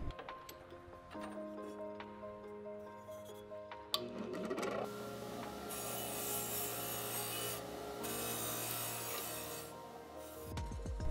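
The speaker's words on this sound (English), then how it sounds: "shine them up with a Scotch-Brite wheel" A motor-driven Scotch-Brite wheel spins up with a steady whine, then grinds against lost-foam cast metal cups in a long, loud abrasive rush before cutting off and spinning down.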